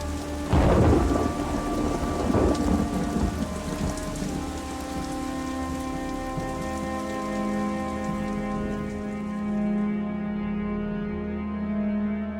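A thunderstorm opens with a loud, rolling rumble of thunder over heavy rain, then settles into a steady patter of rain against a sustained tonal drone.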